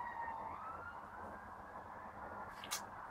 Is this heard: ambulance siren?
yes